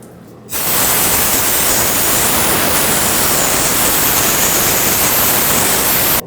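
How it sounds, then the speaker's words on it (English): A loud, steady aerosol spray of brake parts cleaner on a Ford Ranger's driveshaft area hisses continuously for several seconds right after a brief quiet start, close and uninterrupted. "Spray it down with brake parts cleaner to get all the dust off of there."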